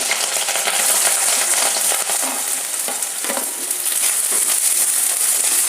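Green chillies and onion go into hot oil with mustard seeds, giving a loud, dense, continuous sizzle and crackle close up, with faint scraping of a spoon now and then and no speech.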